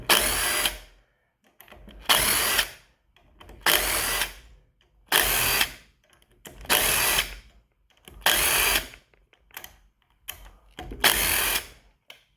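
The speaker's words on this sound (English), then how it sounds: "first thing I'm going to do is pull these bolts out right here" A power tool removes Allen bolts from a pressure washer pump in seven short, loud bursts of whirring at a regular rhythm, with near-silent pauses between them.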